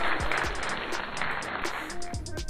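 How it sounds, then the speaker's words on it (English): A dense, continuous wash of applause and clapping, steady and fairly loud, with a few low thumps underneath. "Give yourself a round of applause."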